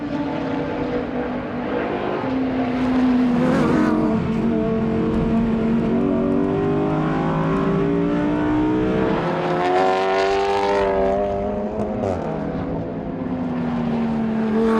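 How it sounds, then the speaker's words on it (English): An Audi R8 LMS GT2 race car's normally aspirated V10 screams loudly throughout, its pitch climbing and falling through gear changes with a sharp, sustained wail. "they have stuck with this normally aspirated V10"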